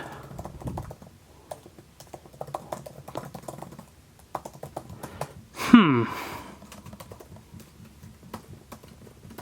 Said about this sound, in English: this feels a little bit more clicky on the MacBook